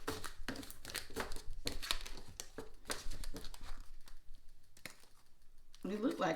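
A brand-new, stiff Archetypes oracle card deck being shuffled, giving dense crinkly riffling and snapping bursts close by, with a voice talking over parts of it.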